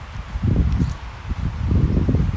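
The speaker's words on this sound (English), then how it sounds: "Getting windy now." Gusts of wind buffet the microphone in low, rumbling surges, rising and falling irregularly throughout.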